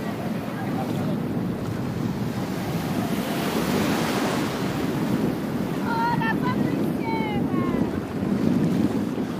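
Surf washing onto the beach at Cala Brandinchi in Italy, a steady broad roar of waves with wind buffeting the microphone and a few faint chirping calls partway through.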